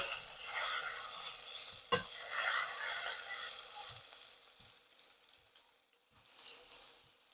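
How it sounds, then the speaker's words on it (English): Pork loin sears in a hot pan, a steady broadband sizzle that is loudest early on, punctuated by a sharp clatter near two seconds, then gradually fades and thins toward the end with a few soft knocks. "this baby's getting seared"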